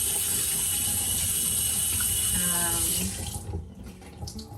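Water from a kitchen sink tap runs steadily over fingers being rinsed, a bright continuous hiss for about three seconds before the flow cuts off, leaving faint handling noises.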